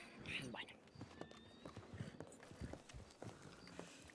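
Horse hooves clop in a video game set on a Blackwater ranch, with slow, uneven steps under ongoing conversation and a brief snort or whinny near the start.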